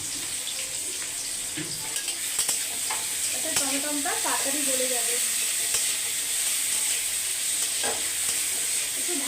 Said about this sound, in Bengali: টমেটো কুচিটা একটু ভাজা ভাজা হোক।